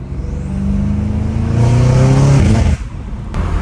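A 2020s BMW M5 Competition F90 twin-turbo engine revs hard and loud, climbing in pitch, then cuts off abruptly before idling back up briefly.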